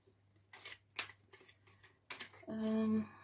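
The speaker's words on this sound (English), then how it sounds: "So let's start shuffling." Tarot cards being shuffled in a few quick, papery bursts, close by, ending in a longer riffling rush.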